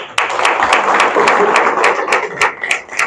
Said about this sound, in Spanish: De cual pido un aplauso para él.